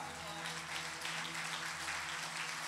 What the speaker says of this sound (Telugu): చప్పట్లు కొట్టాలరా, అభిషేకం పొందుకోవాలా